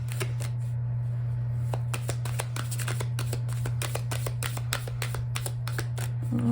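A tarot card deck being riffled and shuffled by hand, with crisp repeated card slaps in quick rhythmic bursts, close and clear over a steady low electrical hum.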